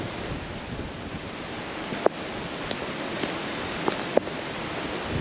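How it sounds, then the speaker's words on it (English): Steady rain falls outdoors during a bikepacking trip, a dense even hiss mixed with wind buffeting, with a few sharp drips or taps standing out now and then; no voices. "It's still raining."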